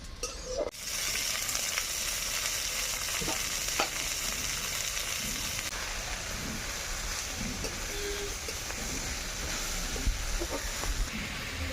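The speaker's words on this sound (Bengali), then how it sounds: "ভালোভাবে পেঁয়াজ লঙ্কাগুলোকে ভেজে নিয়ে এবারে ছেড়ে দেব ধুয়ে রাখা শাকগুলো" Washed red amaranth greens hit a pan of frying onions and chillies, producing a loud, steady, close sizzling hiss that runs throughout, with a few faint clinks of stirring.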